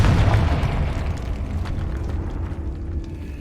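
The Confringo fire spell in Hogwarts Legacy bursts into a loud, close explosion with a deep boom that rumbles and slowly fades over a few seconds, with no voices.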